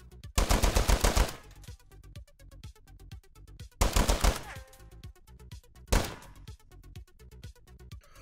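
An FAL rifle fires in the game Ready Or Not: three bursts of automatic fire, two long strings of rapid shots and a final short burst, each followed by a ringing echo tail.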